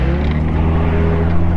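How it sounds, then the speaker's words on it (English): A car driven hard, its engine roaring loud and close with a steady, strained drone and no talk over it. "We're gonna take this car for a rip, go see what it'll do."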